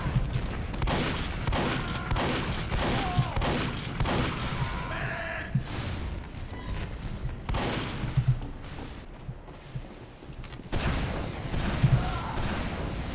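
Rapid crit rocket launches and blasts fill a busy Team Fortress 2 match, a dense stream of repeated booms and gunfire-like bursts running throughout.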